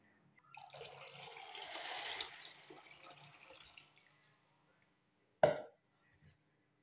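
Water pours into a bowl of 1 kg of dry chickpeas, a continuous splashing gush lasting about four seconds, then a single short plop near the end; close, moderately loud, no speech.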